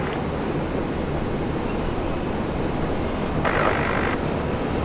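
Airliner landing at Brisbane Airport on runway 01 left in a 12-knot wind, a steady broadband jet roar heard from a distance, holding level throughout with a brief brighter swell near the end.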